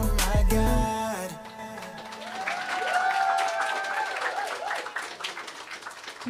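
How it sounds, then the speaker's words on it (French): Audience applause during a church service, a crowd clapping steadily at moderate distance, starting right as music ends on held notes and continuing with faint voices underneath. "Je pense qu'on peut les applaudir encore"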